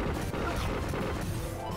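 A base being smashed in the Battle Cats video game, a dense, loud crashing and shattering that fills the short stretch with steady impact noise, no voices over it.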